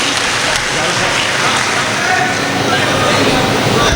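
A mushaira audience bursts into loud, sustained clapping, a steady dense wash of hands that holds evenly for the whole stretch.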